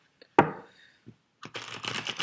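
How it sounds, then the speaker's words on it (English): A deck of playing cards is shuffled up close: a single sharp card snap, a brief quiet, then a dense, rapid crackling riffle of cards that runs steadily to the end. "Let's just give these an extra shuffle."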